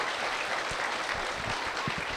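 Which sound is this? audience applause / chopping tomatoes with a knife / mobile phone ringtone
audience applause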